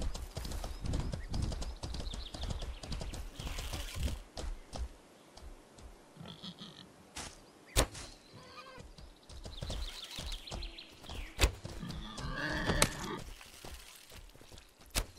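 Horse hooves clip-clopping in a steady, uneven rhythm in the video game Mortal Online 2, with a few sharp thuds and short whinnies rising over the trotting.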